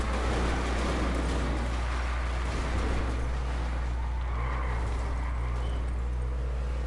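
A Scramjet car in the video game GTA drives with a constant, loud engine roar and road rumble that holds steady throughout with no pauses.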